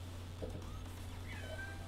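A pet cat named Whiskers meows twice, rising and sliding cries over a steady low electrical hum from nearby equipment, close and fairly quiet with no talk.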